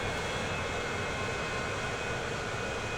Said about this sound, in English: It's actually quite a nice little jet, to be honest.